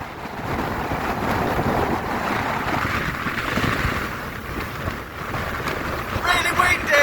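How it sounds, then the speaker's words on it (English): Strong wind on the Beachy Head clifftop buffets the microphone with a continuous, loud, rumbling roar. It swells and eases in gusts, with a brief rustle near the end. "Really windy."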